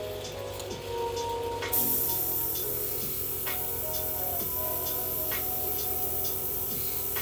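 Airbrush spraying Tamiya Flat Yellow paint onto an Assault Intercessor miniature with a jump pack, a steady close hiss running throughout, with faint ticking in the background.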